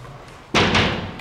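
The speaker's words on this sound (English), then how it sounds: "Knock their candle into a pot like that" Candle knocked against a pot in a coal mine stall, a single sharp thump that strikes suddenly after quiet room tone, followed by a brief rumbling echo.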